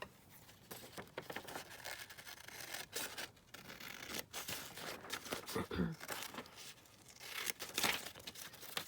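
Scissors or a blade trimming paper for a handmade Christmas craft project, heard as close, quiet scratchy rustles and small tearing crinkles in irregular bursts, with a voice talking faintly over part of it.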